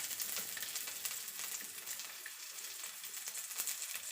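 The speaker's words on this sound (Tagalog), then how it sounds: "lagyan natin muna ng konting mantika ang ating kawali" Garlic sizzling in a little cooking oil in a pan, a steady bright crackle with frequent small pops, close and fairly loud, with no voices.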